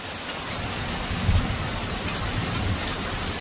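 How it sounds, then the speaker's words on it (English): Heavy rain pours steadily through a quick summer lightning storm over a flooding yard, with a low rumble of thunder swelling briefly near the middle under the constant dense hiss. "So, I'm gonna get out of this lightning storm."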